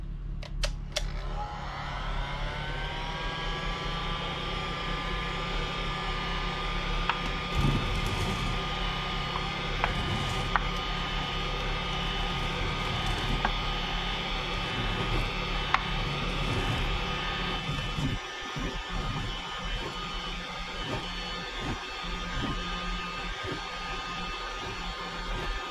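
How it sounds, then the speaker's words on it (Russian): A construction heat gun blows steadily throughout, a constant whooshing hum with a faint whine, close and continuous, used to melt hot glue on a DIY aerator disc made from an abrasive wheel. "И нам нужен обычный строительный фен."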